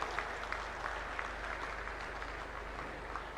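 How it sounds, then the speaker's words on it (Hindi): A crowd at an Indian inauguration and foundation-stone ceremony for national highway projects claps faintly and steadily, a distant patter with scattered sharper claps. "तालियों की गड़गड़ाहट से सचमुच नितिन जी का अभिनंदन किया जाना चाहिए"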